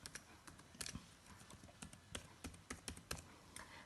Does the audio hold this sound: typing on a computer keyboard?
yes